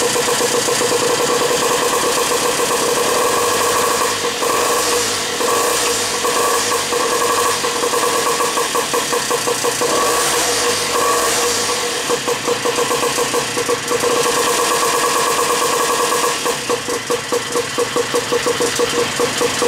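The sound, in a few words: snowblower engine on a gas rat bike starting and running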